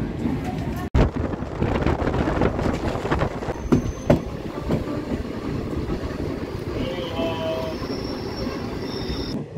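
The Black Diamond Express passenger train, number 22387, runs out of Kulti station on its run from Howrah, heard from on board as a loud, steady rumble with scattered metallic wheel squeals and a sharp break near the start.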